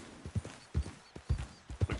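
A horse's hooves clip-clop at a quick gallop in the video game Red Dead Redemption, giving a steady rhythmic beat of four loud hoof-fall clusters across two seconds, with no talking over it.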